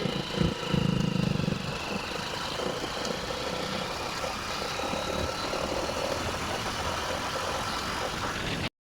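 Steady engine drone of a moving vehicle carrying the rider along a road, with continuous wind rush over it and no talk.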